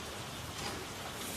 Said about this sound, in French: Qui sait jusqu'à quand il va pleuvoir?